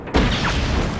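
A fuel tank blowing up in Just Cause 3, a single sudden loud boom with a deep low-end body that rolls on and decays gradually over about a second.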